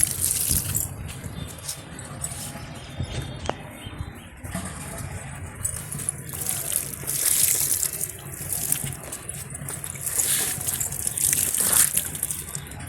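Water poured onto plants in a rooftop vegetable garden, a steady splashing and trickling stream running throughout, with faint birdsong in the background.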